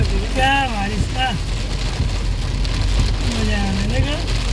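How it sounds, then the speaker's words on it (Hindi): Heavy downpour drums on a moving car on a road near Bengaluru, a loud, constant hiss of rain on the body with a voice heard over it. "मूसलाधार बारिश शुरू हो गई है।"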